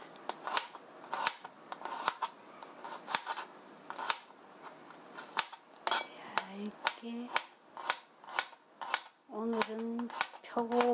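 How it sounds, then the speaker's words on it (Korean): Knife thinly slicing three garlic cloves on a cutting board, giving a steady series of crisp, close chopping taps, with a voice talking over part of it. "마늘은 갈릭 마늘 3쪽은 얇게 썰어 주세요"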